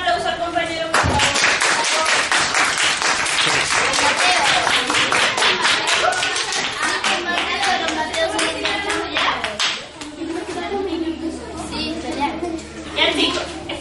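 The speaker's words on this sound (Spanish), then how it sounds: "un aplauso al compañero, por favor." Schoolchildren in a classroom clap for a classmate, a dense burst of close applause mixed with children's voices that thins out into scattered claps and chatter.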